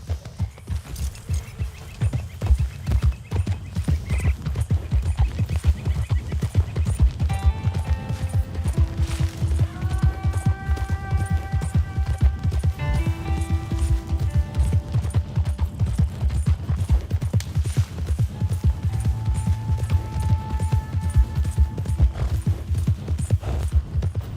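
Horse galloping in the video game Red Dead Redemption 2, a fast, steady drumming of hoofbeats thudding close throughout, with a faint melodic musical tone drifting in over the middle.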